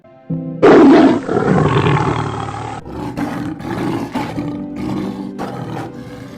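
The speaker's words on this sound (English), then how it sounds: "Odmigwe roared with fire and fury." A demon's furious roar erupts loud and close, one long sustained bellow followed by rumbling, growling aftershocks, with no talking over it.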